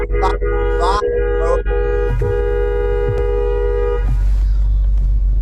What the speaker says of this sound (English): he just went in and just started honking